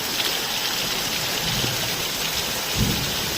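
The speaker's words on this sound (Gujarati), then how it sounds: "વરસાદ પડ્યા છે બહુ પડે હે ક્યારનો આવે છે કાલ સાંજનો" Steady heavy rain pours down in Palitana during a thunderstorm in a dense, continuous hiss, with a faint low rumble partway through and no voices.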